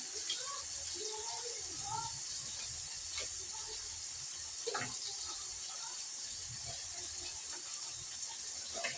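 Water runs steadily from a kitchen tap while cut brinjal is washed in salt water, a constant hissing flow with faint splashes and handling clatter beneath it, and someone speaks softly in the background.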